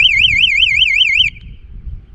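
A motorcycle anti-theft security alarm sounds from the key remote as a loud electronic warbling siren tone, rising and falling rapidly for about a second before cutting off abruptly.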